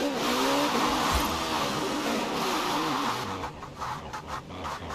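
Rear-wheel-drive car in Forza Horizon 4 doing a burnout, a continuous loud tire squeal with a droning engine that holds steady, then thins and flutters toward the end.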